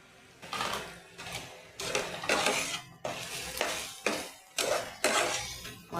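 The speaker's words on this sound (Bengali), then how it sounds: "এবার আমি মটরশুঁটিগুলো দিয়ে দিলাম।" Green peas stirred into a pan of spiced masala for egg curry: rhythmic scraping strokes of a spoon against the pan, about seven in a row, close and moderately loud with a faint sizzle between them.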